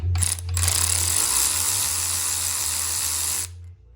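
Tool spinning out a 6 mm Allen bolt from a brake caliper on an LTZ 400 quad, a loud close whirring buzz lasting about three seconds after a brief start-stop.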